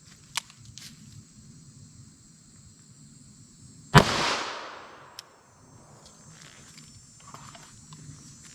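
A single .38 Special +P shot fires a 158-grain lead semi-wadcutter hollow point from a 4-inch barrel into ballistic gel, a sharp loud crack with a brief decaying tail, set against quiet background hiss and a small click earlier.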